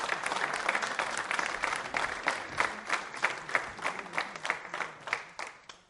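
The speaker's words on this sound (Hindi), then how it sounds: "तालियां तो बजती रहनी चाहिए साहब" An audience at an Indian legal quiz show applauds, a dense burst of clapping that thins into scattered, rhythmic claps before fading out.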